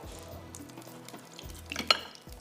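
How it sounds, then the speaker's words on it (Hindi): Honey beef fries in a pan with a low, steady sizzle and a few faint stirring scrapes, rising to one sharp clink near the end; no one speaks. "बस ये फ्राई हो रहा है।"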